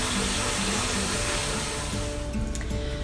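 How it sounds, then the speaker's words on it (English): A washing machine used for dyeing yarn fills with water, a loud, steady rushing hiss that continues throughout with a faint mechanical hum beneath it. "The washing machine has finished filling."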